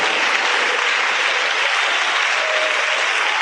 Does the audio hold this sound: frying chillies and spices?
no